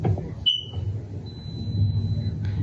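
A faulty home alarm lets out a short, sharp high-pitched beep, followed by a faint, thin sustained tone and a second chirp near the end, all over a low household rumble.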